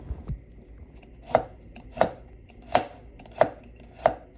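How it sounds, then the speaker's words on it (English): Garlic is thinly sliced with a paring knife: five crisp, evenly spaced knife strikes against a board, close and distinct, with a couple of softer taps before them. "So this is just my Beverly's Material paring knife. I'm gonna just thinly slice the garlic."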